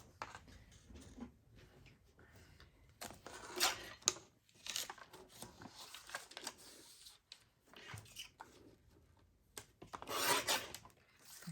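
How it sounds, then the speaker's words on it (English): A paper trimmer slices a printed journal page with several brisk rasping strokes in bursts, close by and fairly loud, separated by quieter handling noises. "So I'm just going to put a little crease and trim that with my cutter."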